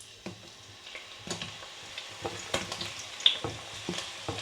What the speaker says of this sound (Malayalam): എന്നിട്ട് നമ്മുടെ സവാള ഇടാണ്.